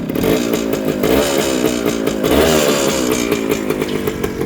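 A Honda MT250 Elsinore motorcycle engine idles and revs up close, with a buzzing, rapping two-stroke-style exhaust note and rising and falling pitch, moderately loud and steady.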